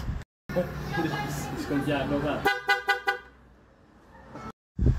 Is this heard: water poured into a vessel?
no